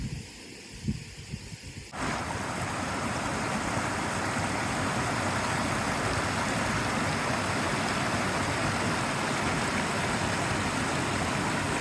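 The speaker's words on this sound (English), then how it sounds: "I really like this Kingston Creek." Kingston Creek in Nevada rushes steadily as a loud, continuous broadband wash of flowing water. It starts abruptly after about two seconds of quieter, uneven sound and then holds even to the end.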